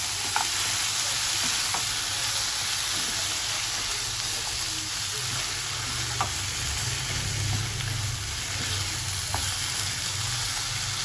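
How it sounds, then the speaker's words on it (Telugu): Mutton curry with masala is stirred in a hot pan for Telangana-style gravy, giving a continuous loud sizzle and frying hiss with soft scraping stirs, close and steady throughout. "ఇలా కలుపుకోవాలి బాగా"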